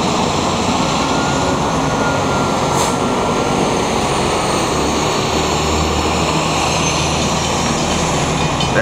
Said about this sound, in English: We got a train here coming shortly.